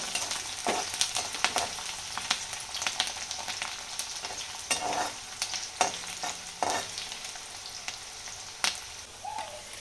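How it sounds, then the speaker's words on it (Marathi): Onion fries toward reddish in a pan with an even sizzle, punctuated by frequent spatula stirs and scrapes close by; no voices. "कांदा थोडासा लाल तळून घ्यायचा"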